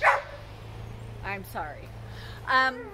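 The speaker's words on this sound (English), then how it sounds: "Sorry about the neighbor dogs." Neighbourhood dogs bark a few times in the distance, short separate woofs spread over a few seconds above a steady low hum, with a person briefly speaking close by.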